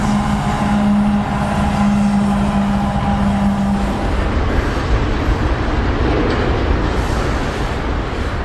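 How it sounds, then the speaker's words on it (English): A loud, continuous roar of a train rolling past on a track right beside a campsite in Ontario, Canada, with a steady tonal hum fading partway through and rumbling noise throughout. "Have you ever slept directly next to a train track?"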